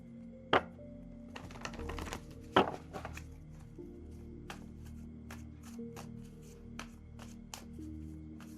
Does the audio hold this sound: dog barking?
no